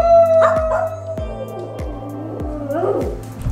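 Dogs indoors at home give a few short yips and whiny barks, close and moderately loud, with quieter tonal whimpering between the bursts and no talking.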